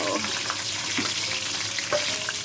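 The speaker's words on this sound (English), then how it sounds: "we're going to fry some chips. So the oil is warmed" Chips frying in warmed oil, a steady dense crackling sizzle filling the whole short stretch with a few brief stirring clinks over it.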